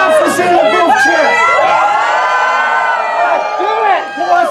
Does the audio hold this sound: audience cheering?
yes